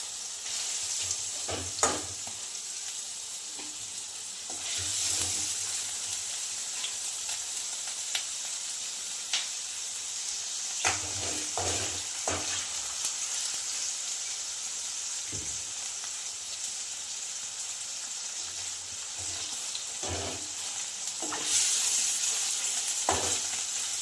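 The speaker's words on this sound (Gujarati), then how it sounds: "રીતે વચ્ચે વચ્ચે હલાવતું રહેવાનું। બધી સાઈડ એક હાથે તળાઈ જાય." Broccoli and paneer fry in a pan with a continuous close sizzle, broken by scattered soft clicks and scrapes of a spatula turning the pieces.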